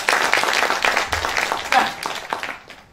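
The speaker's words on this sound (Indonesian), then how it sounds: "Beri tepuk tangan bagi Tuhan itu." A church congregation claps and applauds steadily, a dense wash of hand claps that gradually fades out.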